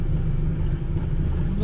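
A car creeps through a lot lined with parked luxury cars, heard from inside as a steady, close low engine rumble with no breaks.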